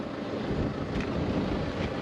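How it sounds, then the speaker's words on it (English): Strong wind at the Kennedy Ranges in Australia buffeting the microphone in a loud, continuous roar with gusty fluctuations, no voices. "still bloody windy out here."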